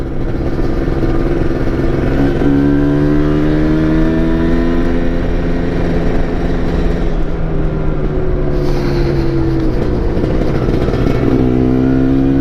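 A Kawasaki Ninja RR Super KIPS engine fitted in a Yamaha RX-Z motorcycle runs steadily and loudly nearby, its pitch rising and falling as the throttle is revved and eased.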